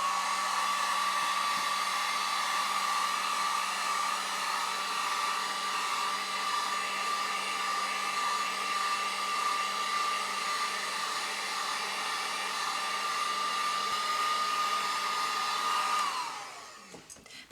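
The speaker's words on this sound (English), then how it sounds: "I will probably also hit it with the heat gun to speed up the drying process" A heat gun dries a freshly screen-printed shirt, giving a loud, steady blowing whir with a constant tone that runs unbroken for about sixteen seconds before shutting off.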